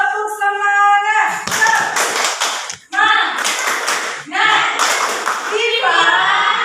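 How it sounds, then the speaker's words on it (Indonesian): A school class claps out a rhythmic spirit cheer during a history lesson, bursts of group clapping in three close sections with brief pauses between, loud and near, with voices shouting along between the claps. "Tepuk semangat."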